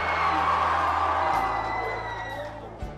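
A telethon auction crowd cheers and whoops loudly in a large hall, a sustained wash of shouting voices that eases off slightly toward the end, with a brief thump near the close.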